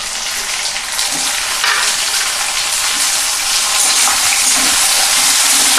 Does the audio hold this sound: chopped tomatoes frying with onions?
yes